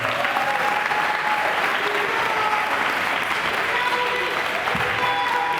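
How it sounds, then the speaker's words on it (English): A crowd at a summer academy closing ceremony gives a continuous round of applause, a dense, even roar of clapping filling the room throughout, with faint voices mixed underneath. "Let's give Keisha a round of applause,"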